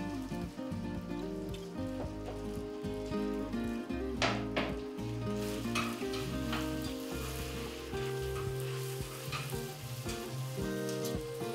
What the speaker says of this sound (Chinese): 如果我们就加姜、胡萝卜、下去来炒